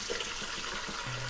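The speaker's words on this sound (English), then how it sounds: "We're going to take the mixture of sugar water and rinds that is now at room temperature and pour it into a bowl through a sieve." Sugar water and lemon rinds for limoncello poured through a sieve into a bowl, a steady close liquid trickle and splash running throughout with no talk.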